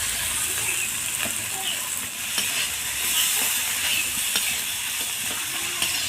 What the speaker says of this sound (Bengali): এটা পুরটাকে এবার ভালো করে আমি কষিয়ে নেব।